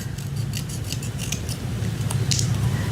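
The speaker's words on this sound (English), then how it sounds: "I'm just going to trim it down with my scissors" Repeated crisp scissor snips cutting through paper, close by, in an irregular series over a steady low hum.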